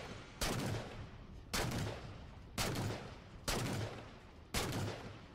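Video game gunfire in Agent Zero as witch hats are shot: five sharp loud blasts at roughly one-second intervals, each trailing off into a decaying rumble, with no talk over them.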